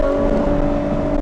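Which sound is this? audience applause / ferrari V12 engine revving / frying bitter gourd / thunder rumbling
ferrari V12 engine revving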